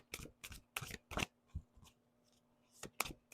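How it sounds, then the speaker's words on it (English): Astrology cards from a small deck being shuffled nearby, with several quick riffling bursts in a row, a pause with softer handling, then two more crisp bursts; no talking. "These are kind of hard to shuffle because there's not many of them."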